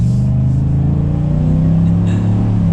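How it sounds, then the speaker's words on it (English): A deep, steady exhaust rumble from a lifted 2021 Chevrolet Silverado pickup with the Rocky Ridge K2 package holds close and loud, with the engine note rising gently in a rev before settling back. "take a listen to this exhaust"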